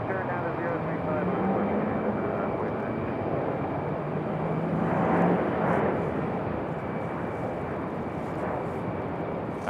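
A Republic Airways Embraer E175 jet at Raleigh-Durham airport produces a sustained engine roar with faint whining tones that peaks briefly midway. Radio chatter runs intermittently over the engine noise.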